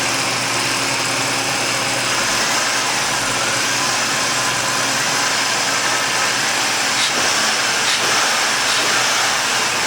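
Mercury Sable engine idling up close, a steady, loud mechanical hum and whir with a faint rattle, running evenly and uninterrupted with no voices.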